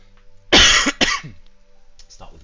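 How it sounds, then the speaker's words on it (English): Two sharp, loud coughs in quick succession, followed by a brief quiet breath-like sound. "Excuse the cough."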